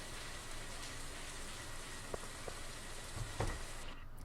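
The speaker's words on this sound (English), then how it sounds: "It's raining, Mycol." Steady rain in the video game Stardew Valley hisses evenly throughout, a soft constant patter with a few faint clicks and drips near the end.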